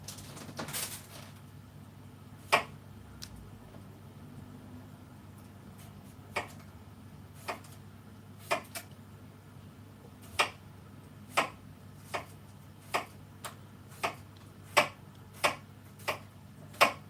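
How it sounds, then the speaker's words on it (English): A knife cuts a cucumber, probably on a board, in a quiet kitchen, giving a steady series of crisp, sharp chops spaced about a second apart over a low hum. "Gotta cut me cucumber a sec."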